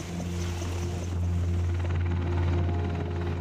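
A US Army AH-64 Apache military helicopter drones steadily with a deep, continuous rotor and engine rumble, loud and unbroken, with no voices.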